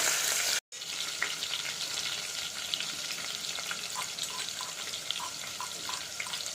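Fennel, cumin, chilli, coriander leaves and curry leaves dropped into hot oil: a short cut of silence, then a continuous bright sizzle with small pops and crackles, close and steady, with no voices.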